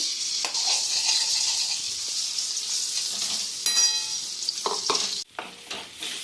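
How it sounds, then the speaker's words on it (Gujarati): Spinach and paneer paste sautéing in about two spoons of ghee in a pan, a steady close sizzle and frying hiss with stirring scrapes and a few spoon clinks near the end, no voices. "હવે આપણે એક પેનમાં ઘી મૂકી બે ચમચી જેવું ઘી મૂકવાનું છે એમાં આપણે આ પેસ્ટને સાતળવાની છે"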